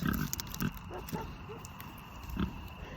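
Guinea hog pigs, a sow or gilt among them, grunt in a few short low bursts outdoors at dusk, moderately close over a steady background hiss of insects or ambience.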